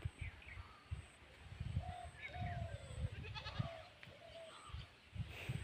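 Goats bleat several times at moderate distance, short wavering calls scattered over a quiet outdoor background with a few bird chirps.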